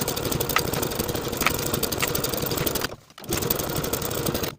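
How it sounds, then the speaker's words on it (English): A sewing machine stitches a band onto the bottom of a jacket sleeve, running in a steady, rapid mechanical whir that stops for a brief moment before starting again. "Sew the band to the bottom of the sleeve with a 5/8 inch seam allowance."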